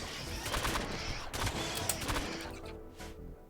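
Gunfire in RimWorld comes in scattered bursts of sharp cracks, close and moderately loud, with someone talking over the fighting.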